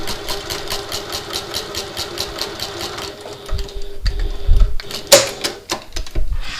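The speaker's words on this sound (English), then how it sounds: "I like to just do a little bit of back stitching there when I'm basting these into place" Domestic sewing machine back stitching while basting bag straps into place, a steady rapid mechanical whir with a short stop-start change partway, then handling clunks and rustles.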